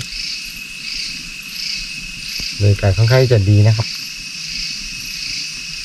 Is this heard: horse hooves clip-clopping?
no